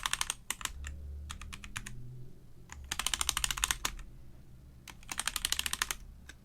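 Typing on a Velocifire M87 Mac mechanical keyboard, with bursts of sharp, rapid key clicks in several clusters separated by brief pauses, close and fairly quiet against a low background hum.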